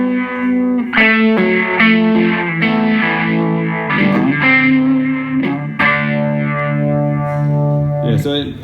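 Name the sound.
guitar with univibe-like effect pedal and drive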